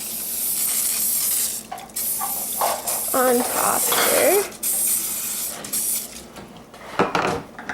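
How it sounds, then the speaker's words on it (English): Short hissing bursts from a spray can of coconut oil, sprayed a few times in quick pulses while a person talks briefly nearby. "I am going to spray a little bit more of my coconut oil"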